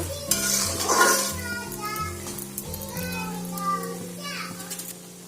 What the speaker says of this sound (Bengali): মাছের মাথাটা দেওয়ার পরে খুব সুন্দর করে নেড়েচেড়ে একটু টান আসা পর্যন্ত ভেজে নেব।